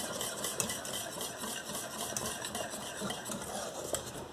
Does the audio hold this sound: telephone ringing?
no